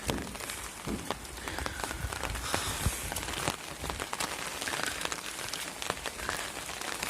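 Steady rain falls on a rural village, a dense, even hiss of drops pattering on surfaces, moderately loud and unbroken with no talking.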